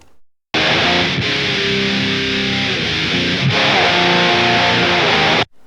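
Electric guitar played through the LE 456 freeware amp plugin with its mid-range adjusted, giving a loud, sustained distorted tone with a brief break partway and again near the end, no talking.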